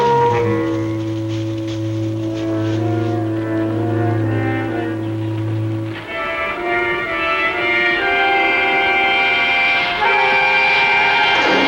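Battle horns sound during a siege, starting with sustained low blasts in several voices, then shifting to a brighter, higher chord that holds strong and loud without any talk.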